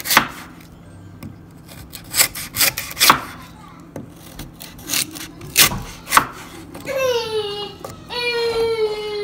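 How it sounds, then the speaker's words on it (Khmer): A knife chops peeled lotus root into chunks for pork rib soup, giving a series of sharp, irregular, close-up chops on a cutting board. A voice rises near the end. "បន្ទាប់ពីយើងបកសបកហើយយើងក៏ហាន់វាជាដុំគឺថាមួយម៉ាត់មួយម៉ាត់ទៅណា"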